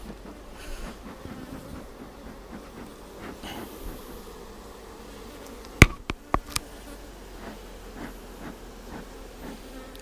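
Honey bees humming steadily around hive frames in a Texas backyard hive as smoke is puffed over them, a continuous insect drone with a few sharp knocks near the middle.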